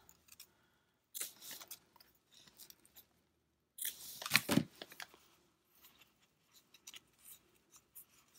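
Scissors snip and trim paper for a junk journal in a quiet room, with a short cluster of cuts, a pause, then a longer louder run of snipping and paper rustle, followed by faint small handling clicks.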